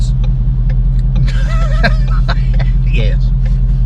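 A car's engine rumbles steadily from inside the cabin, a low constant drone heard under voices, with brief faint clicks and a short squeak over the top.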